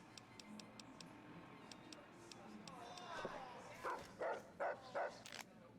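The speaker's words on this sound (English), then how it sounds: "Quiet, dog." A dog in the video game Fallout: New Vegas gives four quick, fairly faint barks in a row near the end, following soft ticking and ambient game sounds.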